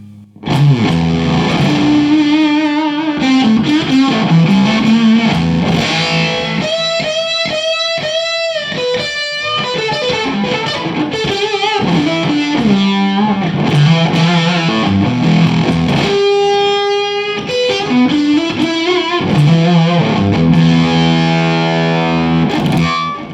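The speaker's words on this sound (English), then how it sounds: "Run the fuzz pedal." Heavily distorted electric guitar with a thick fuzz tone, playing sustained chords and bending lead lines, loud and continuous throughout.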